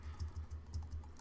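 Typing on a computer keyboard, a quick run of soft, evenly spaced keystrokes close by, heard alone without speech.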